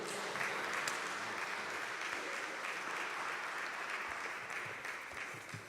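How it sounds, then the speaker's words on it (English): An audience at a morning religious gathering claps steadily for an arriving presenter, a dense, even wash of applause that holds for several seconds before beginning to thin out. "I want to bring up our next presenter this morning with a round of applause."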